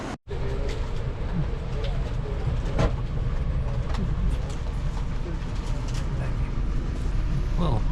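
Steady low rumble and rattle of a moving passenger train on tracks in Australia, with faint clicks and distant chirps over the continuous noise.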